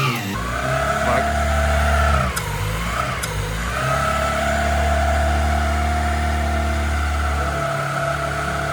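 A rebuilt Honda Civic engine running with a rough idle, a loud close steady drone with pitch dips and brief revs early on, then settling into an uneven idle hum.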